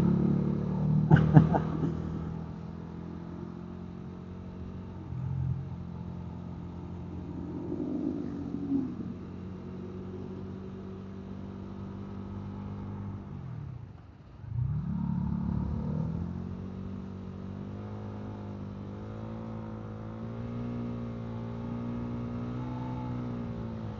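A motorcycle engine idles steadily with a low rumble, revving briefly near the start and again after a short dip mid-clip.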